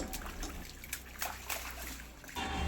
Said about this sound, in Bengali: কল চালিয়ে একদম গামলায় বসে পড়েছে জল ঘাঁটতে।